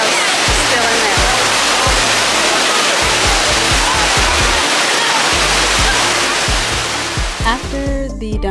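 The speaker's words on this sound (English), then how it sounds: "After the Dunn's River fall, we ended up getting back on the boat" Dunn's River Falls in Jamaica roars as a loud, constant rush of falling water heard close up, with splashing and people talking over it.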